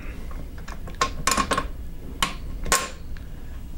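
Metal bolt sliding through a steel T-case cradle arm on a Suzuki Samurai, a cluster of short clinks and scraping metallic taps, close and fairly quiet, with a few brief knocks spaced over a few seconds.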